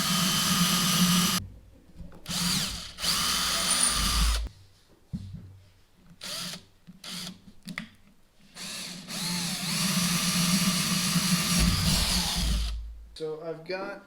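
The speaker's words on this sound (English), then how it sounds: "now I'm going to enlarge them to 1/2 inch" A power drill whines in repeated bursts of several seconds, enlarging pilot holes in wood to half an inch for a small wooden dinghy build, with short pauses between runs.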